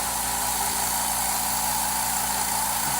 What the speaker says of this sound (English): let me turn on the engine, not the motor, and see how loud it goes